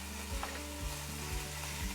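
Lean homemade Italian sausage sizzles and spits in olive oil in a pot, a soft steady frying hiss with a few stirring scrapes, faint and alone.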